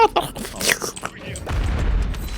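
Sharp game effects crackle briefly in Call of Duty: Warzone, then a deep, rumbling explosion rolls in and lingers to the end.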